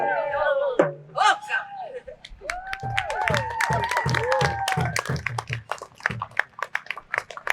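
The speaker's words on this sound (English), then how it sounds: "Give them another round of applause." An audience claps and cheers after a spoken word performance, with quick hand claps and whoops that mix with voices and rise toward the end.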